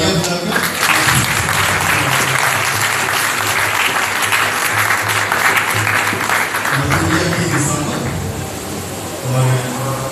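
Loud, sustained applause from a congregation at the church Feast of the Translation of the Relics of St. Dominic, dense clapping that continues for several seconds, with voices mixed in and some crowd noise near the end.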